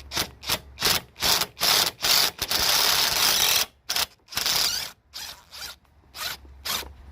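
A long 10 mm socket extension works loose a bolt while replacing the AC compressor on an Infiniti G35/G37/Q40 sedan, giving a quick run of close, rhythmic ratcheting bursts with short pauses, then a longer continuous grind, then more spaced clicks.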